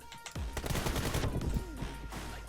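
Gunfire in the PUBG Mobile video game: a burst of rapid shots, sharp repeated cracks starting after a brief lull and running densely through to the end, fairly loud and close.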